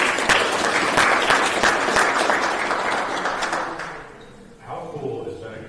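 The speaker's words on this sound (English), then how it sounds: "Let's give a round of applause" Audience applause at a Greensboro city council work session after a presentation, dense steady clapping for about four seconds that fades, followed by a person beginning to speak.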